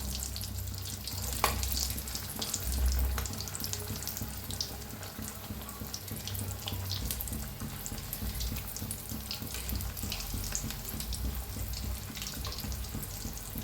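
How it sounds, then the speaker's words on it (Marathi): Vada potato fritters for vada pav frying in hot oil, a continuous dense sizzle and bubbling with a soft hiss, steady and close throughout with no talking. "छान असं तळून घेऊया"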